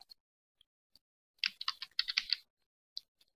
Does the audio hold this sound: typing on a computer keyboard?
yes